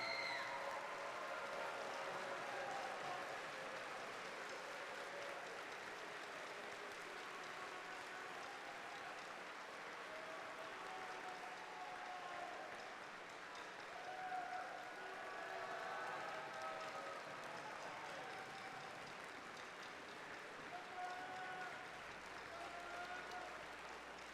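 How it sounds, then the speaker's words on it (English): A robotics championship audience applauds the volunteers in a large hall, a sustained wash of many hands clapping that stays fairly distant and steady throughout. "Can we give them a round of applause?"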